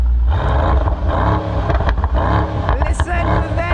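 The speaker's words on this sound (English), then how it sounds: "Listen to that V8." A Mercedes-AMG GT 63 S 4-Door V8 in Race Plus mode revving hard, a loud, continuous close-up engine roar with rising and falling pulses throughout.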